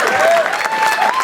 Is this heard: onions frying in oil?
no